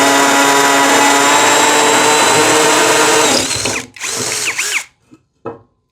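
A Hanabi LJ2022 impact drill bores into a common brick, a loud, steady high whine running for several seconds, then slowing, cutting out, briefly revving again and stopping.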